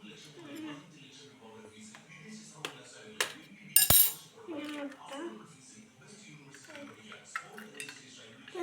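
Soft scraping and clinking of a spoon stirring chicken fry in a dish, with one sharp clatter midway, under steady talk in Malayalam.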